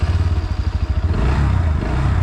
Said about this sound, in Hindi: अब मैं आपको बाइक का जो एग्जॉस्ट नोट है वो सुनवा देता हूँ।